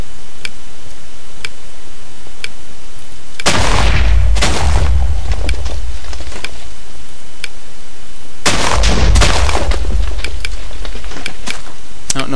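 Bombs exploding in a Minecraft Bomberman-style game, with two loud, booming blasts several seconds apart over a steady loud backdrop and regular faint ticking clicks.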